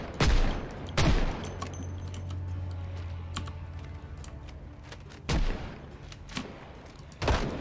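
Bursts of video-game gunfire from a jamming gun, several loud short volleys separated by pauses, with clicky mechanical sounds in between.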